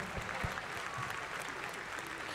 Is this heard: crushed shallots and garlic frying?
no